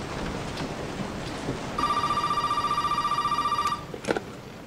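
Telephone ringing in Resident Evil 7, a steady pulsing electronic ring lasting about two seconds over a soft rain-like background hiss, followed by a brief knock, with no talking.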